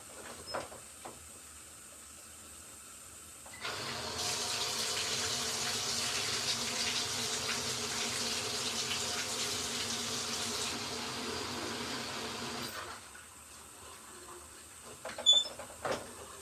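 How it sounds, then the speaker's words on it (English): Hot water runs from a tap into an LG ThinQ MEGA washer, a steady hiss of pouring water that starts abruptly, holds for about nine seconds and then cuts off, with quieter handling noises before and after. "I'll go add in some hot water"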